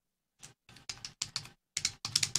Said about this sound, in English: I'm used to typing my name with a space in there.